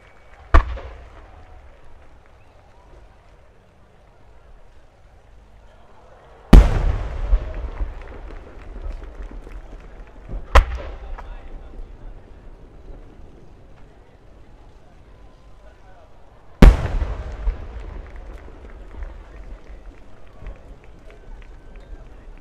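Four sharp, booming firework blasts ring out far apart at the Omagari fireworks festival in Akita, Japan, each leaving a rumbling echo that fades into crowd murmur.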